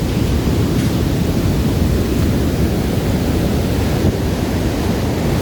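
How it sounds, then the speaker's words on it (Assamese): Sea waves break on a beach in Kerala, heard as a loud, continuous roar of surf that stays close and unbroken throughout, with wind rushing over it and no voices. "কিমান বিশাল সমুদ্ৰ আৰু এইফালে সমুদ্ৰ"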